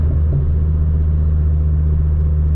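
Ford Focus ST225 with a Revo Stage 2 tune, a loud constant low engine drone and road rumble heard from inside the car during an overtake, with no talking.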